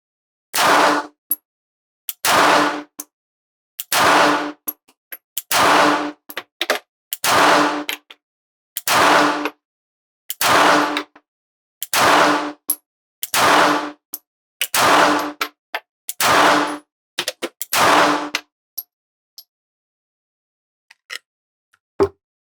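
A Sig P365 .380 pistol fires about a dozen sharp, evenly spaced gunshots at a range, each a loud crack with a short ringing tail, then a few faint clicks after the string ends.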